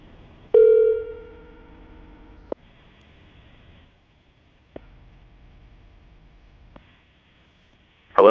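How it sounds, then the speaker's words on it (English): A telephone call being placed: one long tone, then a click and quiet line noise, followed by a few sharp clicks and short rising pulses. It is fairly clear and heard alone, with no talking. "I'm going to dial the phone number right now"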